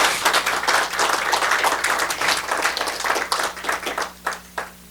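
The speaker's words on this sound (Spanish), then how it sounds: "Le das un aplauso al Señor." A church congregation claps for the Lord, a dense, lively burst of many hands that thins into a few scattered claps before fading out.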